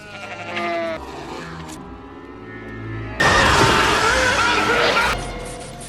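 Sheep bleat in a pen in the 1990 film Tremors: several wavering cries, then a sudden loud, noisy crashing rush for about two seconds before it cuts back to quieter sound.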